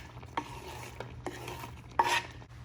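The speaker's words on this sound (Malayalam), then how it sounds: "സവാള ചേർക്കാം." Sliced onions hit a hot pan of oil with mustard seeds and green chillies for a green mango curry, giving a soft sizzle punctuated by several scraping stirs of a spoon, quiet and close.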